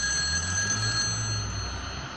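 Telephone ringing in a German-language horror video game set in a mental hospital, a steady electronic bell tone held for about two seconds over a low background hum, with no speech.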